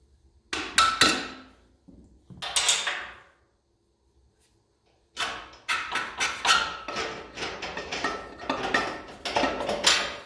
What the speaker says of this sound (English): Again, brass hammer, don't hurt your nuts and bolts.